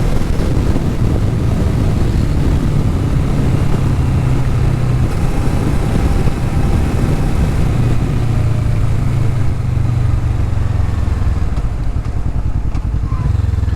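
A Kawasaki motorcycle cruising at steady speed on a motorway, heard as a loud continuous engine drone buried in heavy wind rush against the microphone, unchanging for the whole stretch.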